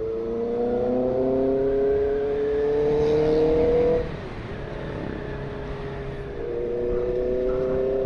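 A Honda CB650R four-cylinder motorcycle cruises along a mountain road, its engine holding a steady whine, easing off briefly, then pulling up again with wind noise close by.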